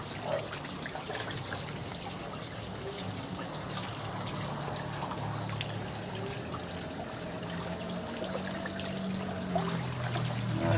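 Strong floodwater rushes steadily at knee depth, a dense continuous wash of flowing water that swells slightly louder toward the end, with no talking over it.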